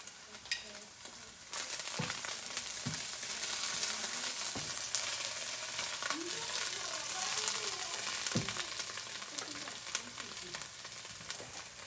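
Cauliflower and potatoes fry in a pan with a loud, steady close sizzle, dense crackling throughout and occasional clicks and scrapes of stirring.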